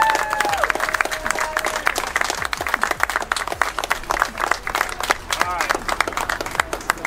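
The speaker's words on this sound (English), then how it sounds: "Let's give a round of applause for the Beltrani family in Austin" A crowd at a competitive burger-eating charity event in Austin claps briskly and continuously, many hands close and loud, with voices murmuring underneath.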